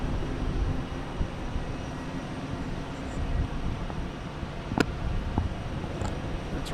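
British Airways airliner at Boston Logan Airport, a continuous distant jet engine rumble with a few brief clicks and knocks over it.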